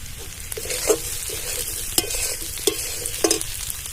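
Potatoes frying in a pan with turmeric and chili powder being added, a steady low sizzle with several scraping stirs and soft clinks, close and moderately quiet, no voices.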